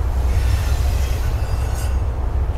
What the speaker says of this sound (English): there's my fucking intermodal and there's a fucking train blocking it